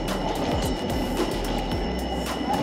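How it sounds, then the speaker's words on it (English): Rotterdam city tram rolling along its rails, heard from on board as a steady rumble and clatter with faint rhythmic wheel thumps, no speech. "We had to take the tram."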